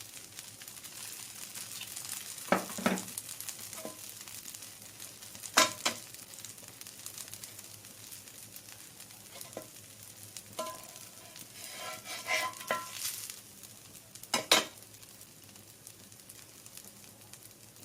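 Pearl millet dosa frying in oil on a hot pan gives a soft, continuous sizzle broken by scattered crackles and sharp spatula scrapes, heard alone without speech.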